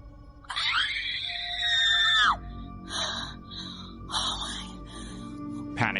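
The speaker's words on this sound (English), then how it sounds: "the woman shakingly records as she screams in fear" A woman lets out a long, high, sustained scream of fear, then several shorter frantic cries follow over a low background hum.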